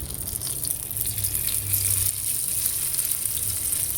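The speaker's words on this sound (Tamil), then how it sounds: "எண்ணெய் காஞ்ச உடனே நம்ம பன்னீரை போட்டு பொரித்து எடுத்துக்கலாம்" Paneer fries in hot sunflower oil with a steady, close hissing sizzle that stays even throughout the clip.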